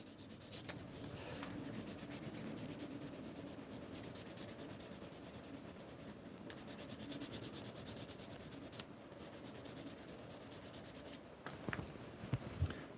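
Leather edges being smoothed and polished by hand, giving a steady dry rubbing and burnishing sound with short pauses, close and fairly quiet, with no talking.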